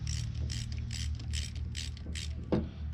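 A hand ratchet tightens a bolt on an aluminum A6 A/C compressor, giving a close series of about seven quick clicking bursts over a low steady hum, with no talk.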